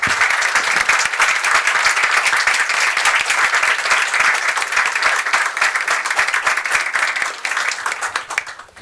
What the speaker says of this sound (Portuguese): para que vocês recebam de todos nós um caloroso aplauso